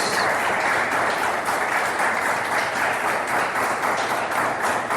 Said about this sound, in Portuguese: Aplauda o Senhor Jesus, glória a Deus.